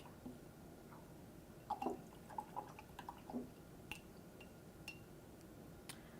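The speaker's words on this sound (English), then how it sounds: "I'm going to go ahead and rinse my brush." Paintbrush rinsed in a water cup during an autumn valley painting session: faint, scattered drips and light clinks against the container, a few small splashes clustered in the first half, quiet throughout.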